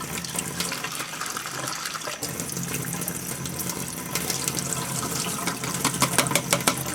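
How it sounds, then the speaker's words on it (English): Tap water running steadily into a container as tomato seeds are rinsed, a continuous splashing gush close by with small knocks of the container near the end. "I'm going to rinse my container out"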